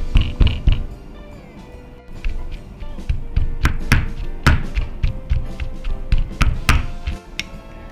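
Repeated heavy thuds of a pestle pounding filleted, deboned fish and onions in a mortar, close and loud, in an irregular rhythm of single and double strikes with no talk.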